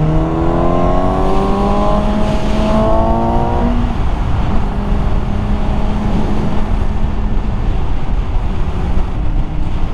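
Engines rise and fall during a motorcycle stunt show in Brest, with rising revs in the first few seconds giving way to a steady, fairly loud roar mixed with crowd ambience.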